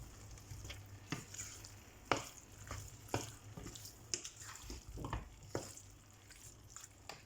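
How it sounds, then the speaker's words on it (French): A spoon stirs coriander powder and spices through a chicken curry in a pan, giving soft rhythmic scrapes and clacks over a faint low sizzle, close by and quiet. "On va mélanger un petit peu"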